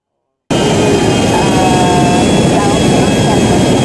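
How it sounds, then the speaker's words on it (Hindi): A large airplane's jet engines roar loudly and continuously in GTA V, kicking in abruptly after a moment of silence and holding a steady, dense whine through to the end. "काफ़ी बड़ा जहाज़ है तो जल्दी से हम इसे उड़ा के ले जाते हैं।"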